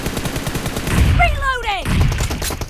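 Rapid gunfire in the PUBG battle royale game, with bursts of shots repeating in quick succession over a steady background, and a voice briefly talking partway through.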